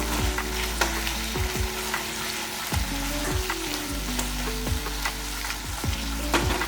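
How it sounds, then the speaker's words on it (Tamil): Tomatoes frying in a pan for tomato kurma, mashed down with a ladle: a dense, close sizzle broken by repeated scraping and knocking strokes of the ladle, no talking. "கொஞ்சம் தக்காளி வந்து நல்லா வதங்கணுன்னா நம்ம கரண்டியை வச்சு இந்த மாதிரி நல்லா மசிச்சு விட்டுக்கலாம்"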